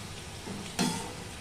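Ginger garlic paste sautéing in a pan for a Bengali fish-bone chorchori, a low steady sizzle with one sudden louder hiss partway through as it hits the oil.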